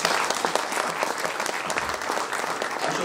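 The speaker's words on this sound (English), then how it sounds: "You need a round of applause." An audience at the closing ceremony of a junior Asian U-14 tennis ranking series breaks into dense, loud applause. The clapping holds steady and close throughout, with no talk over it.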